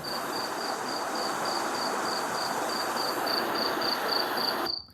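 A white noise sound machine plays rapid, steady cricket chirping over a constant wash of rushing waterfall sound, then everything cuts off abruptly at the end.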